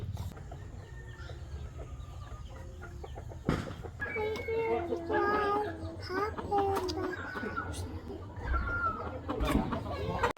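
Chickens cluck near a person preparing to grill one, with a few clear clucks and squawks after a sharp knock, over steady background noise and some nearby talk.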